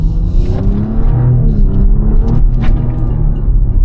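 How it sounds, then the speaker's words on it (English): A BMW G45 X3 M50 engine rumbles steadily from inside the cabin, with a low droning exhaust note and a faint turbo whine rising over it. "This is a very enjoyable power exhaust. Wow, the turbo noise is crazy."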